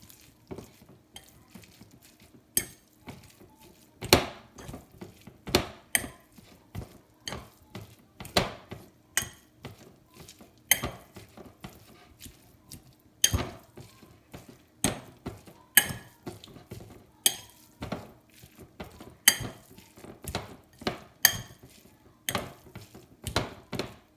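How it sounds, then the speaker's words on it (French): A seasoned filling for stuffed courgettes, with salt and pepper, is mixed with a utensil in a bowl: irregular close taps and scrapes repeating steadily, separated by short quiet gaps. "il n'y a plus qu'à mélanger"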